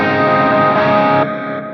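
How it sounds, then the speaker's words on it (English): A Source Audio Ventris pedal set to a Memory Man style modulated delay gives a loud, shimmering, chorus-like wash with repeats on a played tone, which cuts off sharply and leaves a quieter trailing tail. "it kind of sounds like a deluxe Memory Man type of modulation"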